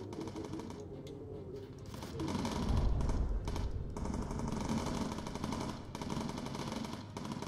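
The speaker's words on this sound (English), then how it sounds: "The gunners keep shooting them down." Rattling bursts of machine-gun fire from bomber gunners in the video game Bomber Crew, sustained chattering volleys with a deeper swell midway, steady and moderately loud with no talk.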